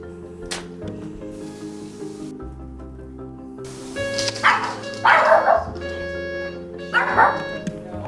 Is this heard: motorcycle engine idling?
no